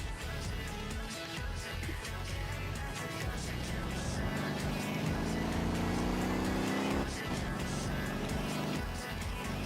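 A car accelerates hard while overtaking slower traffic, heard from inside as a steady engine drone with a rising whine, road rumble and brief whooshes of passing vehicles.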